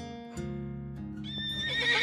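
A horse whinnies amid a layered music bed in a dramatic scene where a first-time rider is about to mount, the high neigh rising near the end of the short clip with no talk.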